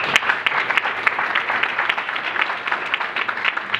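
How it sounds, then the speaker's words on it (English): A conference audience claps for a speaker introduced to give a talk on agile digital marketing, a steady, moderately loud wash of applause with sharp individual claps standing out throughout. "please give a round of applause for Julia Macalaster"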